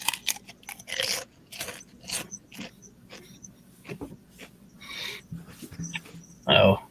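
Someone chews a mouthful of Doritos chips up close, with irregular bursts of crunching and biting, quiet gaps between them and a loud crunch near the end.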